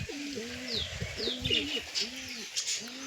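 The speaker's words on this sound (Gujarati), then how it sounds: "જો મિત્રો આપણા બધા કબૂતર બેઠા છે" Pigeons coo softly in a steady repeating rhythm, several low rolling calls in a row, with a few faint higher chirps scattered above them.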